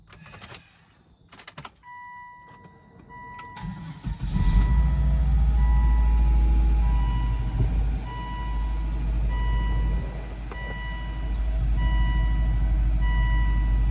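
A 2005 car engine cranks briefly and catches, then settles into a steady, close idle hum after a few seconds of quiet shuffling and clicks, with a warning chime sounding before it fires.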